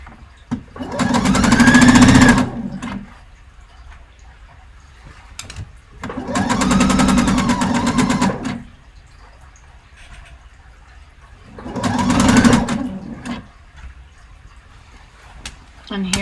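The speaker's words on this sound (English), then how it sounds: "I'm not going to backstitch because this is basting. And it's going to go really fast because the stitch length is so big." A sewing machine runs fast in three separate bursts of a few seconds each while basting with a long stitch length, loud and close, with quiet gaps between the runs.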